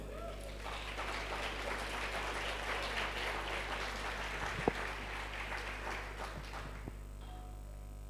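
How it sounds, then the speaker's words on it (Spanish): Church congregation at a Christian conference applauding: a sustained wash of clapping from many hands lasting several seconds, then fading out, with a few sharper claps near the end. "¿Cuánto le dan un aplauso al Señor?"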